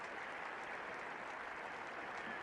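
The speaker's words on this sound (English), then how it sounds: "And the crowd here at Old Trafford rising to greet him." A cricket crowd at Old Trafford applauds a departing batsman, a steady, dense wash of clapping from a large distant gathering that holds evenly throughout.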